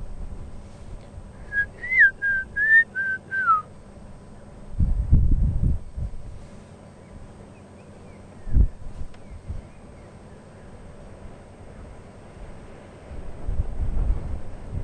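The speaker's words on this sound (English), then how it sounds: "there's two birds with a beautiful whistle." A bird whistles a short melodic phrase early on, faint and distant, during a sunrise safari drive, with gusts of wind buffeting the microphone and low rumbles afterward.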